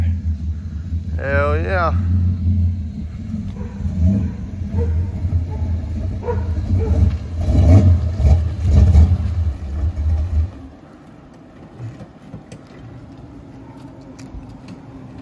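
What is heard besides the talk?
friend's car arriving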